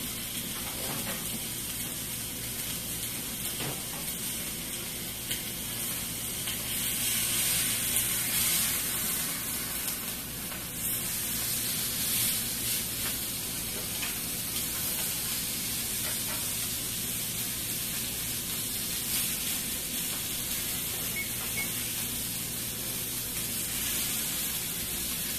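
Bacon frying in a pan, giving off a steady hissing sizzle with scattered small pops that continues evenly at moderate loudness for the whole stretch, without any talking.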